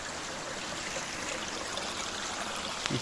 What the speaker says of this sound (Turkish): Şimdi Bahçeköy'ünden gelirken burada ufak bir pınar bulduk.